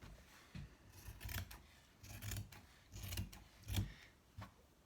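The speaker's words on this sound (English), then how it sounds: "Let's cut it following your wadding line." Scissors snip through a square of quilt wadding fabric in a steady series of five or six crisp, close cutting strokes, each a short rasping crunch with brief pauses between, quiet with no talking.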